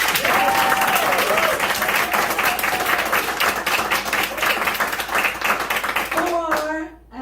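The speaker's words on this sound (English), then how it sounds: "we're gonna do our clap off for Brandon McIntosh." Audience applause for a contestant during a clap-off: dense, sustained clapping from a crowd, steady for about six seconds before tapering off, with a brief voice rising at the very end.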